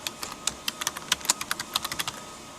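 A password is typed on a computer keyboard in a quick run of about a dozen crisp, close keystrokes with an uneven rhythm and no talking.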